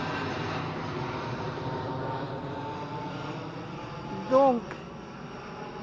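An airplane flies over a motorhome campsite, a steady distant drone running throughout beneath someone talking.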